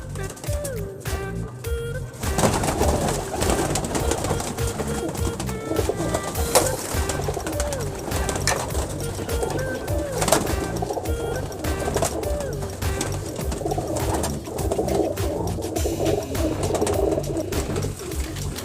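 Pigeons coo steadily throughout in a loft of fancy breeds such as Golden, Teddy, Rampuri and Kasuri reds, their soft repeated calls layered over a busy background of fluttering, chirps and other birds.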